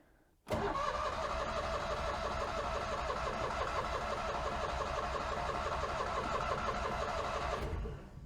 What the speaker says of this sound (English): So I'm gonna see if it'll start.